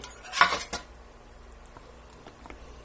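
Cucumber and apple salad tossed in a bowl: one short, close clatter of utensils against the dish, then faint, sparse scraping and light taps, with no talking.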